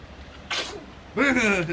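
A short, sharp sneeze bursts out, and moments later someone speaks in a rising, sing-song voice.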